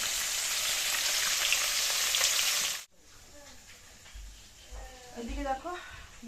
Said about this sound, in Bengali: মাছটাকে ভেজে নিই